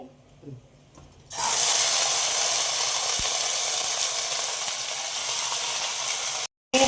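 Ridge gourd goes into hot oil in a pressure cooker: a sudden loud sizzle starts after a quiet moment and holds steady, briefly cutting out near the end.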